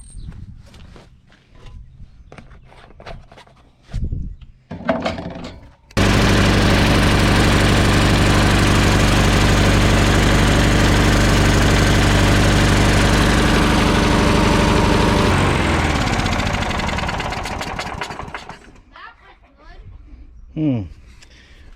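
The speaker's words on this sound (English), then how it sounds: "this started on the 3rd pull. It started right up" A walk-behind lawn mower engine with a no-start fault, choke fully on, catches after a few pull-start tugs and runs loud and steady for about ten seconds before winding down, with footsteps and handling noises around it.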